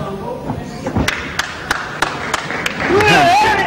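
A lone person clapping at ringside during an arm wrestling match, a series of sharp, evenly spaced claps ringing out over a murmuring crowd, with a commentator talking throughout.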